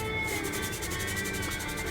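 Sandpaper rubs rhythmically along the plastic edge of a 1/72 scale B-2A stealth bomber model, a close, continuous scratchy rasp with quick back-and-forth strokes.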